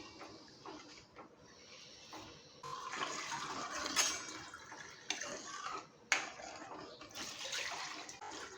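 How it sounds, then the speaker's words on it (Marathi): A soft, steady rush of water pours into a pot of sorghum soup cooking on low heat, rising and falling slightly in strength, fairly quiet with a few faint clinks. "आणखी थोडंसं मी पाणी ॲड करते आहे"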